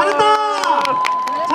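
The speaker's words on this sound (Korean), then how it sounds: "박수 부탁드리겠습니다." Audience clapping and cheering at a cultural arts performance given jointly by disabled and non-disabled participants, a dense, steady burst of applause with shouts and crowd voices mixed in throughout.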